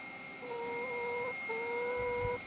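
A hen clucks in a couple of drawn-out, wavering calls close by, with a steady high whine in the background and a brief thump near the end.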